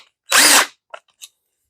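A cordless power drill fitted with a Klein 7-in-1 impact socket whirs in one short, loud burst of about a third of a second, then gives two quick faint blips, close up with no talking.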